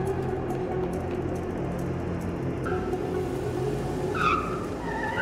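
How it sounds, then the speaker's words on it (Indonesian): A car in an action film speeds and skids, tires squealing over a dense, steady engine roar, loud and continuous with no speech. "Akan tetapi tanpa ragu Smith langsung menabraknya sampai membuatnya koat."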